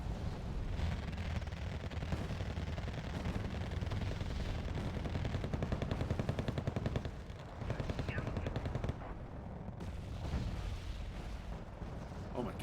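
Strategy video game battle with continuous machine-gun bursts and booming artillery fire, a dense loud barrage of rapid gunshots and heavy blasts running throughout, with a brief lull near the end, mixed with game sound and a voice.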